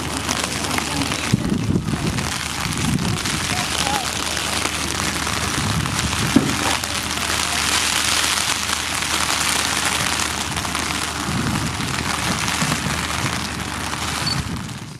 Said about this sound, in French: Une pluie torrentielle s'abat sur la piste.